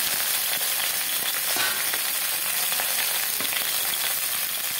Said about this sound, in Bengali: বেগুনগুলো আমি নেড়ে চেড়ে হালকা করে ভেজে নেবো